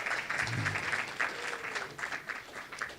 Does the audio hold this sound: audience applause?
yes